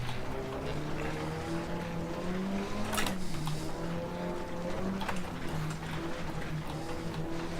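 A rally car in Richard Burns Rally engine braking down a steep hill: steady droning engine note with shifting revs throughout, punctuated by a couple of brief sharp transients, no talking.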